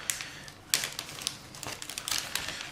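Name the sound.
plastic bag handled with clear model kit parts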